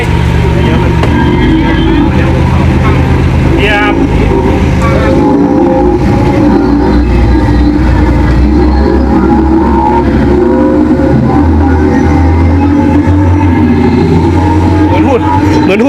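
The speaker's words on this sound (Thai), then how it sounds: "อันนี้เสียงทานฟอร์เมอร์นะ" A loud, dense mechanical whirring from an EV's external speaker, a transformer sound effect, with robotic clicks and shifting metallic tones, continuous and close, like a machine transforming.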